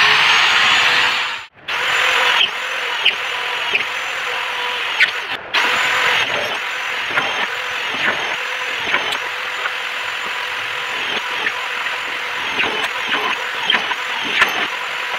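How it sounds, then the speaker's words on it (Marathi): A machine punches holes in an aluminium door section in a workshop, giving a continuous loud whirring, grinding drone with brief pauses and shifting pitch over about fifteen seconds. "चला फटाफट आपण होल पंचिंग करून घेऊ."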